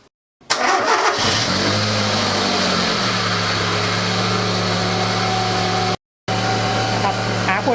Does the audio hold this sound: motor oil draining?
no